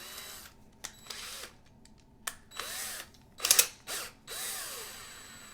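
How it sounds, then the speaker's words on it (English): Power drill spinning the axles of a restored Matchbox Ford GT toy car; short whirring bursts rising and falling in pitch, with light clicks and metallic ticks between spins, fairly quiet and close. "Put them into the drill."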